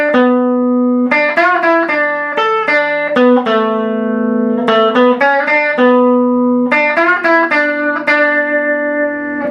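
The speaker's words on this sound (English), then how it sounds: "it'll sound like this without the talk box." Electric guitar playing the intro solo of a song without a talk box: a clean, sustained lead melody of distinct notes with vibrato, loud and close, with no talk.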